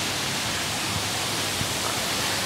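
A waterfall heard from the very top, a steady loud broadband rush of falling water filling the whole stretch without a break, with no voices over it.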